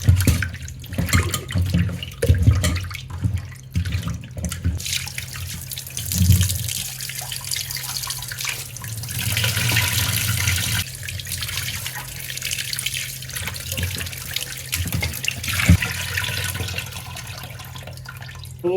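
Fish pieces are washed under a running tap, a steady stream of water splashing and gurgling with intermittent sloshes and clatters of handling, close and fairly loud, with no speech.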